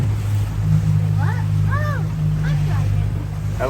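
A small rented motorboat cruising along the Greek coast gives a steady, loud engine drone with wind and water noise throughout, while voices and bird-like calls rise briefly over it.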